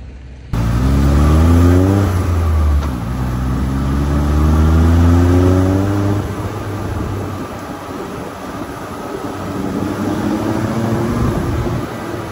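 A Honda Civic engine revs loudly and close by, rising through repeated sweeping climbs and dropping back before settling into a strong, steady roar.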